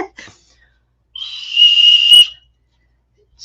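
A vintage milk whistle cup is blown once, giving a single shrill, steady whistle lasting about a second that swells slightly before stopping abruptly, with faint brief sounds just before it.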